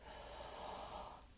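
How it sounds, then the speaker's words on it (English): A long, steady breath drawn in through the mouth during a guided meditation, a soft continuous airy rush that stays even for over a second before easing off slightly at the end. "Breathing in through your mouth."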